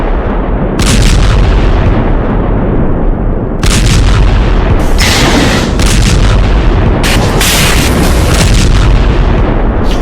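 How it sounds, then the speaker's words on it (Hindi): Bombing explosions in Gaza: a loud, dense roar of blasts with heavy low rumble, several sharper bursts breaking through at intervals, with no voices. "गाजा में जिस तरह की बमबारी हो रही है उसने पूरी दुनिया को जैसे सबसे मिला दिया है।"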